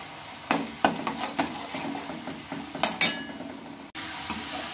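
Pieces of taro and peanuts fry in hot oil, a second batch going in, with a soft sizzle under intermittent utensil scrapes and a few light metallic clinks against the pan.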